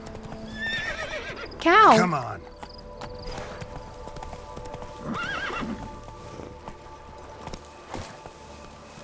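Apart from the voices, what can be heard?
Roach the horse galloping and neighing in The Witcher 3 video game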